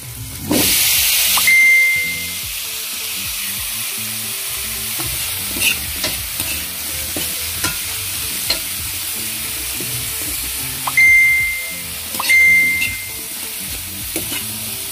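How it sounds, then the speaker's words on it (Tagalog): Vegetables are stirred into sautéed garlic, onion and tomato in a hot pan, giving a loud continuous sizzle with scraping stir strokes and a couple of short, bright hissing bursts. "Pinisa na bawang sibuyas saka kamatis. Saka siyempre lagay na natin yung gulay."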